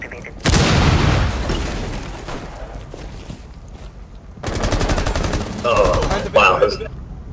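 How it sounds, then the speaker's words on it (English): Breach charge detonating in the video game Rainbow Six Siege, a sharp loud blast followed by a rolling rumble, then rapid gunfire bursts later on, with players talking over the action. "Breach charge activated."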